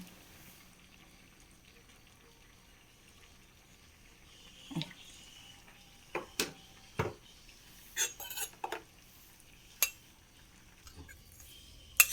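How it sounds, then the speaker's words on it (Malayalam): Quiet kitchen with a few scattered metallic clinks and knocks of a pan being set down, then a soft splash of coconut oil being poured. "ചട്ടി വെച്ച് വെളിച്ചെണ്ണ ഒഴിക്കാം"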